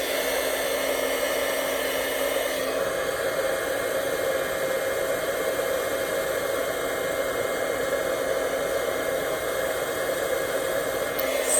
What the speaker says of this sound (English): Now we're going to heat that up quick. My heat gun from the bottom so I can see where I'm going.